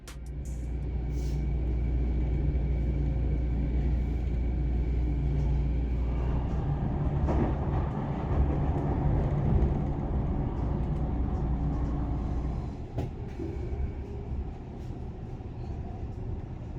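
Interior of a transit train riding to the end of the line at Vancouver International Airport, a loud steady low rumble with rolling wheel noise and faint rattles throughout, no speech.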